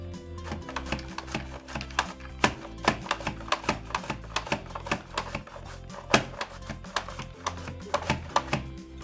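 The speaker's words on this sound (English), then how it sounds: "now let's do some carrots. I'm gonna set it to julienne on the number 4 thickness." Mandoline slicer set to julienne at the number 4 thickness cutting carrots, giving a rapid run of sharp, clacking strokes in an uneven rhythm, close and fairly loud with no talk.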